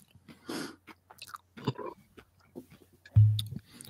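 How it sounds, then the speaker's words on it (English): Tortilla chips being chewed and crunched close to the mic at a Taco Bell meal, in short irregular bites with soft mouth noises between them and a louder crunch near the end. "Turn down my volume because I'm chewing on crunching on chips."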